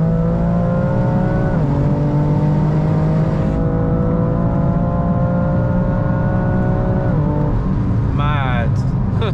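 A BMW M3 Competition with a 530 bhp turbocharged engine pulls hard in third gear, its loud engine note rising steadily in pitch through the rev range before a quick shift near the end.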